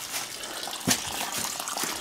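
Water draining out of a motorcoach's plumbing lines during winterizing, a steady soft gurgling trickle with one brief splash near the middle, fairly faint and close.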